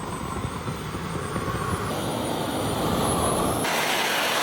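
A radio-controlled F-22 Raptor model jet with its engine running, giving a steady, loud, close roar with a high whine that holds throughout and swells slightly toward the end, with no talk.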